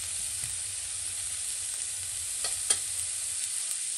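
Mashed rajma frying with turmeric, goda masala and salt in a pan, a steady hiss of sizzling with a couple of brief stirring clicks, close and without speech.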